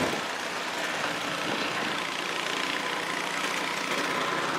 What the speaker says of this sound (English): look at GB with a snow blower